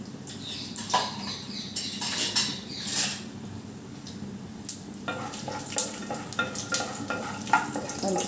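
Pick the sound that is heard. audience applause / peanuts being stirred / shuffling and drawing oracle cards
peanuts being stirred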